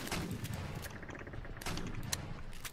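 Rapid bursts of gunfire in the video game Garry's Mod, sharp overlapping shots and automatic fire rattling in quick succession, loud and continuous across the moment.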